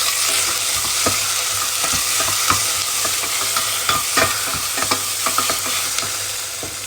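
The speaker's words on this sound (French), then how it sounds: "on va venir bien mélanger" Chicken in coconut sauce, a Togolese dish, is stirred in a pan, with repeated close scrapes and clicks of the spoon over a steady loud sizzle. No one talks.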